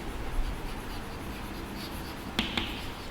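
Pen or marker writing on a board during a Class X biology lesson, a faint steady scratching across the clip with a couple of sharper taps near the end, quiet and with no voice.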